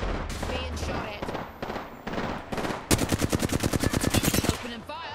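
Rapid automatic gunfire in the battle royale game Apex Legends, a steady burst of evenly spaced loud shots in the second half, preceded by busier mixed combat noise with voices underneath.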